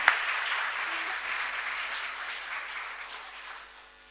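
A congregation at a Catholic Mass in a chapel claps in a sustained round of applause that fades gradually toward the end, with no talk over it.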